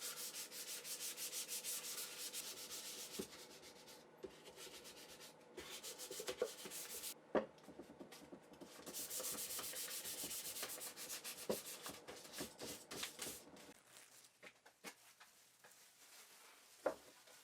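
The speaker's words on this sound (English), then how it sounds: "I'll give it another light sanding," A wooden Japanese toolbox-style box gets a light hand sanding with 1000 grit sandpaper, a close, soft rasping rub in long continuous strokes with short pauses and a few light taps near the end.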